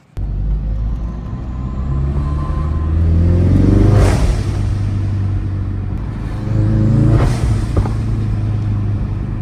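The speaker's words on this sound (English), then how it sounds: "let's get in the go-getter parts car and go get that seal" Subaru Forester (Foz), a 6-speed swapped car, drives off from near to farther away, its engine rumbling and revving through two clear acceleration pulls with gear changes in between, loud and steady with no talking.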